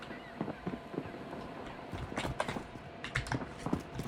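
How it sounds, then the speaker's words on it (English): Footsteps in a first-person shooter video game: quick, irregular soft taps and scuffs over a low game background. "I hear footsteps, right? You guys hear that"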